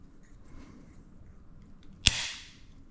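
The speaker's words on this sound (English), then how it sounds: "It's got a really snappy action. You can hear that snap." A Cross Glide magnetic mount for a Comma.ai device shuts with one sharp, loud snap, and a brief bright ring fades after it in an otherwise quiet room.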